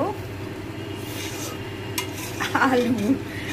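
Potatoes with tomato, sugar and a ground paste of ginger, garlic, onion, poppy seed and cashew stirred slowly over low heat in mustard oil; a soft steady sizzle with a few scraping stirs and a utensil clink near the end.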